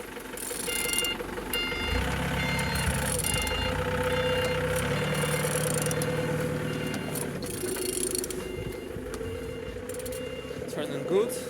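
An engine on vehicle GN56OKM, listed as 1X250, turns over and keeps running with a steady mechanical drone and clicking tones throughout. A person talks over it.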